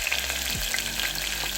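Onions and capsicum seeds fry in a pan with a steady, close sizzle that continues without a break, and no one talks.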